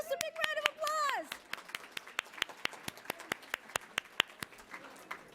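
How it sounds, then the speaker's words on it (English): At a Columbus Metropolitan Club event, a voice speaks over the first second, then sparse, individual claps follow in a steady uneven patter, crisp and close rather than a full roaring ovation. "Give it a big round of applause."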